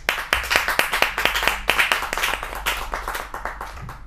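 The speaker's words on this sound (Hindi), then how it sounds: "एक बार बहुत जोरदार तालियों के साथ स्वागत किया जाए प्रवीण आर्य जी का" Audience applause at a Hindi kavi sammelan greeting the poet Praveen Arya: a steady run of many hands clapping, close and lively, with individual claps standing out in an uneven rhythm, no voices over it.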